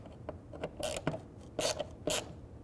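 A ratchet clicks in short bursts while tightening the tail light screws on a 2007-2013 Mini Cooper, close-up and fairly faint, with a few separate quick ratcheting strokes.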